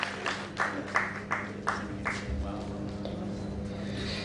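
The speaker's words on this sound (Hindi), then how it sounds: "राखी जी की तो जोरदार तालियां बजाइए।" Scattered audience clapping for the performer Rakhi at a live music stage program, a handful of distinct, evenly spaced claps in the first two seconds, then fading into a steady background hum.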